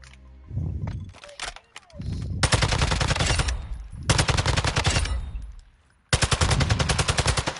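Rapid automatic gunfire at a video game firing range, loud sustained bursts of shots separated by brief pauses, with a single crack and some background noise before the first burst.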